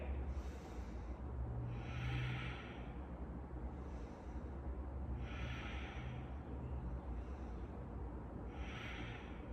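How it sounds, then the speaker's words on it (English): Slow deep breaths drawn and released during a triangle pose in a gentle yoga flow, each inhale and exhale a soft airy hiss recurring every couple of seconds, close and steady over a low background hum, with no talking. "Take 3 breaths here."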